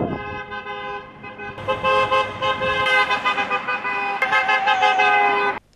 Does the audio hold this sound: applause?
no